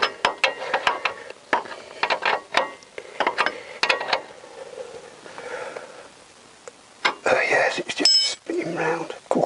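Sharp bursts of ratchet clicks in irregular runs as a driveshaft nut is tightened on a Ford Focus, close up, with metallic clanks and brief pauses between strokes.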